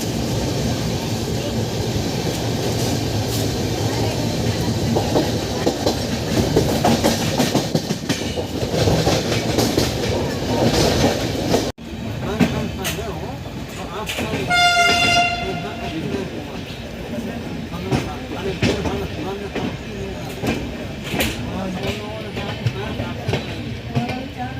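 The 12107 Mumbai–Sitapur SF Express runs loudly from inside, with a continuous rumble and rhythmic clickety-clack of wheels over rail joints. A horn sounds clearly midway.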